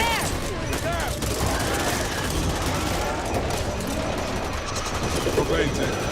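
Dense, rapid gunfire from the zombie shooter game Back 4 Blood, sustained bursts with clatter and impacts, players' voices talking over the action.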